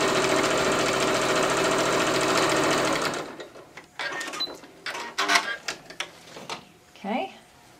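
A sewing machine stitching along a marked line on quilting fabric, a loud steady whirring run for about three seconds, then stopping, followed by softer handling noises and a brief voice.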